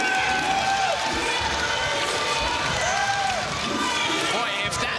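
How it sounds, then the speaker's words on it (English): A boxing crowd in Atlanta roars and cheers steadily throughout, a dense, loud wall of shouting and whistles with rising swells, at a tournament fight. "Crowd coming alive here in Atlanta."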